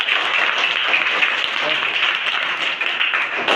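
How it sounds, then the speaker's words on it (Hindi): Sustained applause from a classroom of students, steady and dense throughout, with a bit of voice mixed into the clapping. "लेकिन जोरदार ताली बजाइए"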